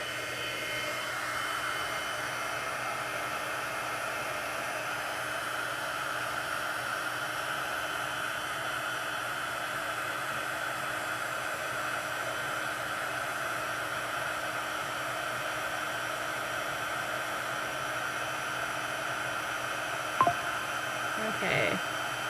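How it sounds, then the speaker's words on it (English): Embossing heat tool blowing hot air to heat set a handmade card, a steady broadband whoosh running continuously at moderate level, with one brief click near the end. "now we're just going to heat set it with our heat tool"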